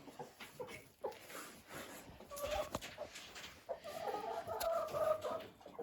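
Chickens cluck and murmur softly at a distance, with scattered calls rising over a low, busy farmyard background.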